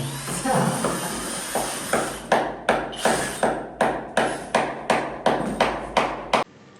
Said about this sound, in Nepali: हाम्रो दावाले टक्सेले पनि हान्दैछ